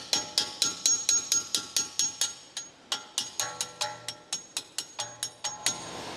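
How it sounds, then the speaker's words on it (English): Repeated sharp metallic ball-peen hammer taps driving out a strut-to-knuckle bolt on a 2012-2015 Chevrolet Cruze, ringing in a steady rhythm, a couple dozen strikes close by with short pauses between groups. "Use the ball-peen hammer to remove the strut to knuckle bolt."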